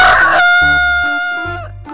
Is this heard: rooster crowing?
yes